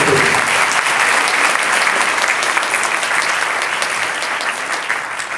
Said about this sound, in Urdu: ہم زوردار تالیوں میں ان کا شکریہ ادا کرتے ہیں